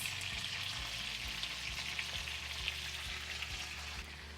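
Chicken thighs and baby artichokes fry in a crowded pan for a Mediterranean braise, giving a steady, close, dense sizzle with faint occasional clinks and stirring sounds and no talking.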